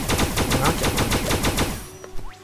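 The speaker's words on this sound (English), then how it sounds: "Rocket launcher." Rocket launcher fire in the video game Starbound, a rapid rhythmic burst of about a dozen sharp booming shots in quick succession, loud and close, cutting off abruptly before a brief quieter tail.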